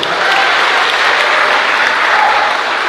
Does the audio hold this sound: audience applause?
yes